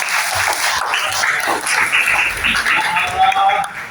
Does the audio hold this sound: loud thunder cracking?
no